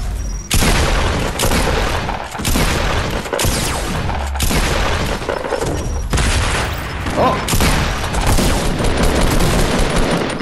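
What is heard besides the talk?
explosions in the video game Fortnite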